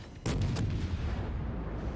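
Warship main guns firing in the naval video game World of Warships, a heavy booming salvo that bursts in loudly after a short pause and rolls on as a long, dense rumbling decay, with no talk.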